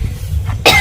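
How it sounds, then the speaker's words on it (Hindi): A single sharp cough from a person who has been ill, near and loud, bursting out after a moment of low background noise. "इतना दिन से खांसी आवत आटे"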